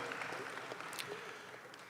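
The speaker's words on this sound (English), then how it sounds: "how about a nice round of applause for all of these fine junior champions?" Audience applause in an arena ring at a youth dairy cattle show for junior champions, a steady, moderately distant wash of clapping lasting throughout without voices.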